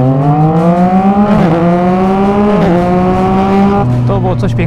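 A motorcycle accelerating from a standstill, its engine note climbing steadily through the gears with two brief shift dips, loud and close, then settling into a lower steady drone.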